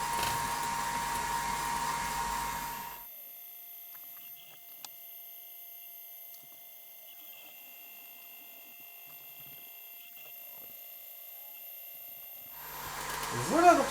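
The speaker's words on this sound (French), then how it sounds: "la machine m'a gravé aux 4 points des petits repères" A laser engraving machine marking small reference points at low power gives a steady faint whine with a high tonal hum that runs for about ten seconds, between stretches of louder background noise.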